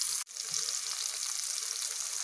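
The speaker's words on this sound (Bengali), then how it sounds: "এরপরে দেব পেঁয়াজ ডুমো ডুমো করে যেটা কাটা আছে, এটা একটু ভাজা হবে।" Diced onions fry in oil with salt, giving a steady, bright sizzle close by with a brief dip near the start.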